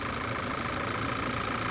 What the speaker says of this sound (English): So I gotta shut the engine off,